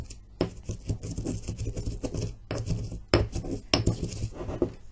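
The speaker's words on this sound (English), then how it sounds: "Grinding pieces of cinnamon and star anise to a fine powder would take quite a long time." Cinnamon pieces and star anise being ground by hand toward a fine powder for loose incense, heard as close, repeated scraping and clinking strokes in an uneven rhythm with no talk.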